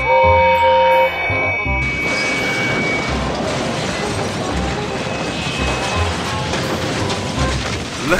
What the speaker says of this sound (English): Gordon crashed and smashed into the trucks.